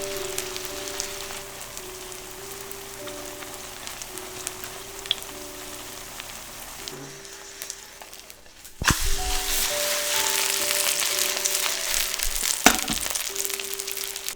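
Kimchi pancake batter fries thinly in a hot oiled pan, a soft crackle that turns into a louder, dense sizzle partway through as more batter hits the pan, with faint clinks of the utensil.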